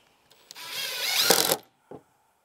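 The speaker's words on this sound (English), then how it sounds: "We're going to square that up to our 2x4 and put 2 of the short screws in." A power drill drives a short screw through a bat house perch panel into a 2x4, a close whirring burst of about a second with brief clicks before and a short trigger blip after.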